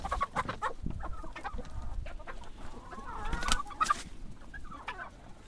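Several chickens clucking and squawking close by in a snowy, cold yard, with scattered sharp calls and a short burst of louder cackling over outdoor rustling.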